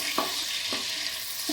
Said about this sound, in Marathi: शॅलो फ्राय करूया चिकन